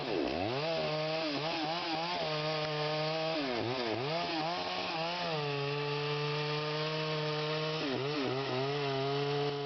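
A chainsaw cuts during redwood tree felling, a loud continuous whine that dips and rises in pitch as the blade bites and revs, close and steady throughout.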